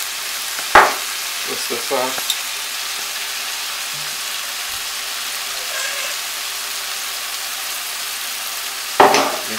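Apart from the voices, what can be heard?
frying and stirring callaloo and saltfish with red pepper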